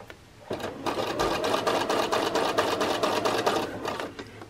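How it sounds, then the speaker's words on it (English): A sewing machine runs in a fast, steady rhythmic whir while edge stitching a flat felled seam on jeans, starting after a brief pause and continuing alone to the end. "We are edge stitching along this raw edge that has been folded over the upper layer."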